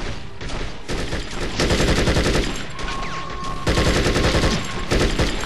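Heavy sustained gunfire from the video game Conflict: Desert Storm fills the whole stretch, with dense machine-gun bursts swelling and easing in loud waves.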